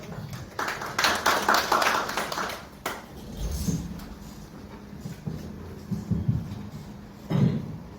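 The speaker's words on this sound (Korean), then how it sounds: "박수 한번 부탁드리겠습니다." Applause at a Korean election candidacy press conference, a short burst of moderate clapping from a small audience in a room that quickly dies down, followed by a few thumps, shuffles and murmurs.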